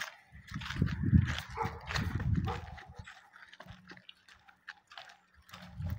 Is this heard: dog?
yes